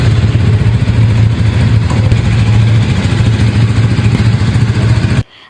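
A KTM Adventure 250 motorcycle engine idles loudly and close by inside a showroom, a steady low throb running for about five seconds before cutting off abruptly.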